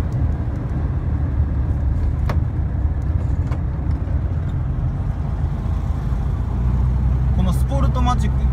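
An air-cooled Volkswagen Beetle Type 1 with Sportomatic transmission drives along, its low engine drone and road rumble steady throughout from inside the car, with people talking over it.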